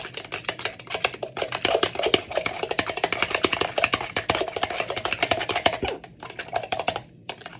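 Fork whisking eggs very fast in an infinity-sign motion, a dense run of rapid, crisp clicking taps against the bowl, steady and close, with a brief pause near the end before a few more strokes.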